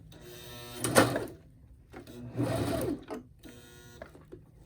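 A sewing machine stitching a purse bag cover, running in two short whirring bursts with quiet gaps between, heard close up.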